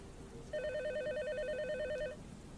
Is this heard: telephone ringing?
yes